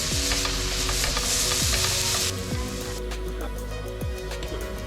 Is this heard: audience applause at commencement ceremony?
no